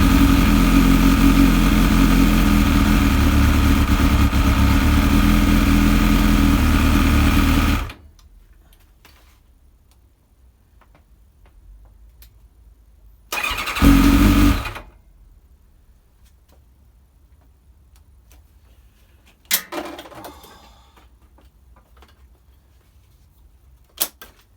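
A Kawasaki ZX7R motorcycle engine runs loud and steady at close range for several seconds, then cuts out, leaving near silence broken by a short second burst of engine noise and a few faint clicks.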